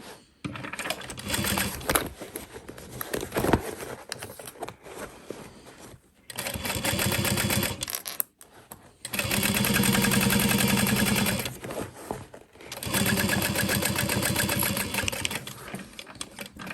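A sewing machine bastes fabric pieces for an Aster Bag, running in several sustained bursts of steady whirring, with pauses and quieter handling of the fabric between runs.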